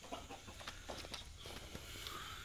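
A white hen on a farm clucks in short, repeated bursts alongside other poultry, fairly close and steady over a constant low background rumble, with no talking.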